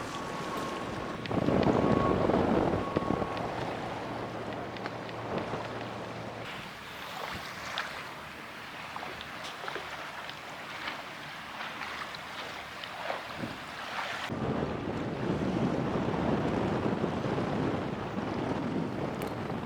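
A sailing boat speeds through 30-knot wind in Poole Harbour, heard as rushing wind buffeting the microphone and water hissing along the hull, steady throughout with gusty surges and no voices.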